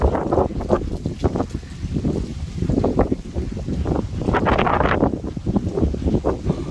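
Gusts of a foehn south-wind storm roar and buffet the microphone in heavy, irregular surges, loud and close, with rattling and rushing noise rising and falling throughout.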